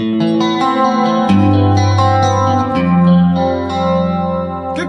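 Rolling guitar arpeggios ring out with a delay effect, each note echoing and swirling into a chorused, reverberant wash.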